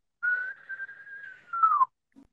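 A person whistles a sustained, wavering note imitating birdsong, one long steady tone with small trills that dips down at the end, clear and alone in a quiet room, followed by a faint short sound.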